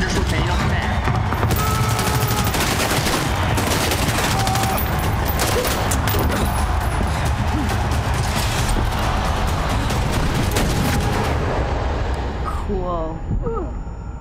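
Gunfire in a Rainbow Six Siege cinematic: loud, dense bursts of automatic fire and shots over a constant heavy battle din, continuing almost the whole time before tapering off near the end.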